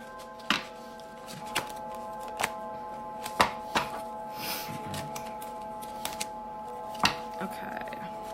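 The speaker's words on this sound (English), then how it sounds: "I'm having trouble shuffling these cards. This is like my sticky deck." A sticky deck of angel cards being shuffled gives irregular sharp riffling clicks and slaps in several separated bursts, over a steady background hum.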